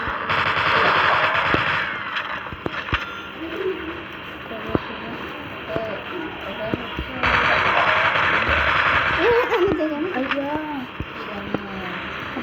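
Rapid automatic gunfire in a zombie shooter video game, dense bursts with single sharp shots scattered between, loud and constant, while voices talk over it.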